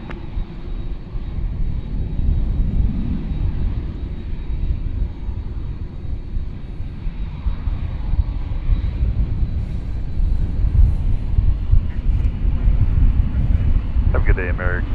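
An airplane taking off from runway 18 left at DFW Airport, a loud, steady, low engine roar that runs the whole time with wind rumble, heard from nearby and without speech.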